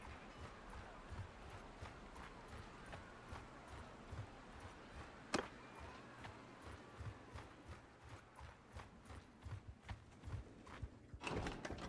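In Mount & Blade II, horse hooves clip-clop in a steady trotting rhythm, quiet and close, with a few sharp clicks and a busier burst near the end.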